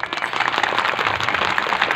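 Women in a kirtan audience clap in a steady, dense wash of applause, continuous and fairly loud throughout, with no talking heard over it.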